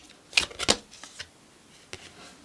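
Tarot cards shuffled in a reading: a couple of quick crisp riffling bursts close up, followed by a few softer scattered card taps and slides, no talk.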